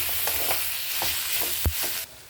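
Kokum sautéed in a hot spice tempering for a Konkani-style dried shrimp dish, with a continuous loud sizzle and a few scraping stirs of the spoon against the pan, ending abruptly.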